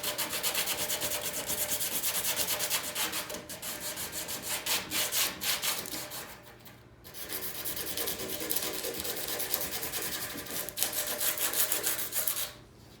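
A surfboard's surface is scuffed with sandpaper for repair: steady, close abrasive rubbing strokes run continuously with a brief pause midway, loud and alone without any voices.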